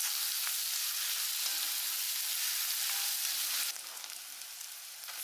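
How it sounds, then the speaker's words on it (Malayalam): Sliced onions and green chillies sauté in hot coconut oil for chicken curry, a close, steady sizzle that drops to a softer, quieter frying hiss near the end. "വെളിച്ചെണ്ണയൊക്കെ ഒഴിച്ച് അത് ചൂടായി വന്ന ശേഷം നമ്മൾ ഉള്ളി, പച്ചമുളക് അത് നമ്മൾ വഴറ്റിയെടുക്കുകയാണ് നല്ലപോലെ"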